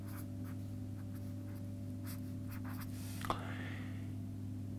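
Hand-writing a magnetic field formula during a physics lesson, soft scratchy pen or marker strokes in short bursts over a steady electrical hum, with one brief louder squeak near the end.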